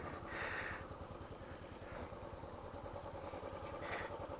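A 2014 Royal Enfield Bullet Classic C5 Military single-cylinder motorcycle running just after a kick-start, a steady low thumping idle heard close and continuous with no talk.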